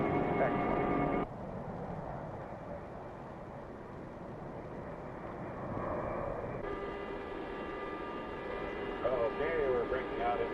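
Steady broadband drone of a light aircraft's engine heard from inside the cabin in flight, continuous and fairly loud with shifting intensity and faint tonal whines, with no talk over it.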